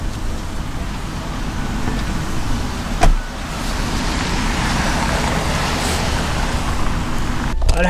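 A rented car cruising on a Canadian road, with a steady broadband rumble of tyres and wind inside the cabin, one brief knock partway through and a rustle at the end.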